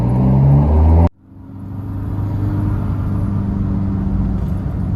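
A Chevrolet six-speed pickup with a stage 1 remap and a modified front pipe pulls hard in third gear, its engine roaring loud and steady after a brief gap, a dense close rumble that holds throughout.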